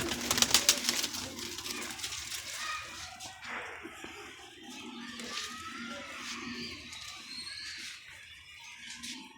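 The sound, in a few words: breeding pigeons cooing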